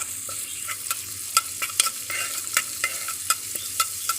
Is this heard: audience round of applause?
no